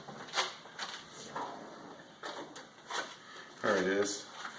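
A drawer is slid open during home mead brewing, giving a few brief scraping and knocking sounds, followed by a short burst of a person's voice near the end.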